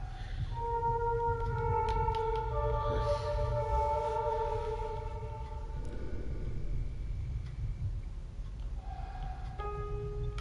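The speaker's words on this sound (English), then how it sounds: "Play the piano by following the notes." Sustained piano-like melody notes in the video game Project Zero (Mask of the Lunar Eclipse), held tones stepping up and down over a steady low rumble, moderately loud with no talking.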